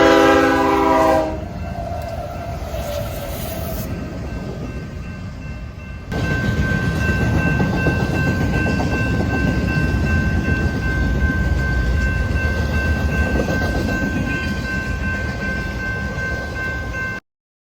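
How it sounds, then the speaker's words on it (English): An eastbound intermodal freight train rolls past loudly, opening with a brief blast of the horn, then a long, steady rumble of wagons and wheel noise with a sustained high tone riding over it, cutting off abruptly at the end. "we got an eastbound intermodal that had another H1-9, this time trailing fourth"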